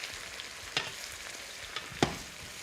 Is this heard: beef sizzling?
yes